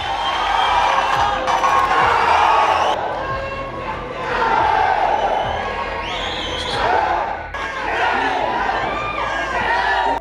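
A large crowd at a Mohanlal event roars and cheers loudly for about ten seconds, a dense, continuous wall of shouting voices that swells and dips slightly without pause.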